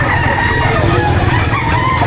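A rooster crows loudly amid a busy Saturday chicken market in Lipa City, Batangas, with more clucking and crowing fowl and a steady crowd hubbub filling the background.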